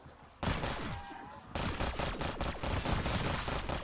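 A gun in Black Ops 6 Zombies fires in a loud, dense rapid burst that starts abruptly, pauses, then resumes as continuous fast automatic fire to the end, with no talking.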